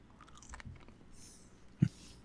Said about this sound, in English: I'm just munching on French fries